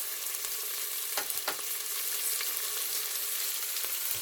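Keema mince sizzles in a frying pan over medium heat while a takeaway-style keema madras is made, with a dense, continuous close hiss and a few small pops, and no talking.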